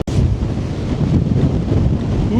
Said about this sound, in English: Ooh man, it's windy.